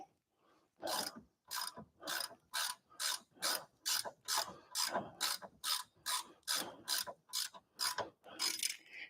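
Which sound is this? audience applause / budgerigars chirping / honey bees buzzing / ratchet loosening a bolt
ratchet loosening a bolt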